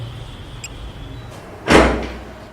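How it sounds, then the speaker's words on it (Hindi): A single loud door thud or slam against a quiet room background, fading quickly afterward. "दरवाजे पर कोई है"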